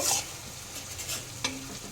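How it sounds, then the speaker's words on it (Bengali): Ginger garlic paste fries with browned onions in a pan, a soft, close sizzle with faint stirring, quiet and without talk. "আদা রসুনের কাঁচা গন্ধটা যাতে চলে যায় এটা একটু ভেজে নেব।"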